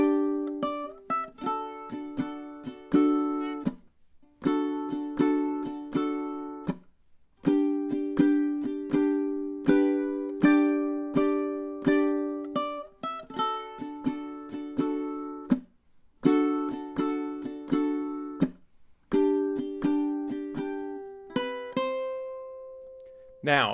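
Ukulele picking melody B of a song, bright plucked notes in short rhythmic phrases with brief pauses between groups, close and clear, no voice.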